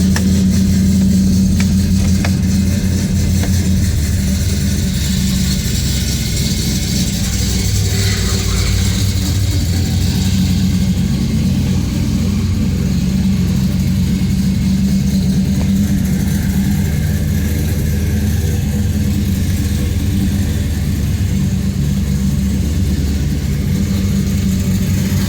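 A 1972 Chevrolet Chevelle SS tribute with a B&M Quicksilver shifter, its V8 engine running steadily at close range with a deep, continuous low rumble and mild revving, with no talk.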